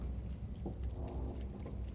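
Steady rain pours in the Little Nightmares video game, a dense, continuous hiss with low rumbling undertones like distant thunder, heard alone without voices.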